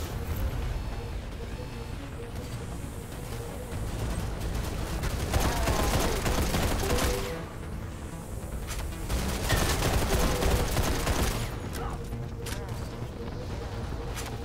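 Gunfire in the video game Raiders of the Broken Planet, dense sustained volleys of shots from several directions with continuous loud battle noise throughout, a voice speaking over it.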